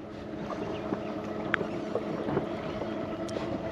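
A boat pulls away across a big lake on a carp-fishing trip, with a low, steady motor hum and water wash under light wind noise, moderately close and fairly quiet.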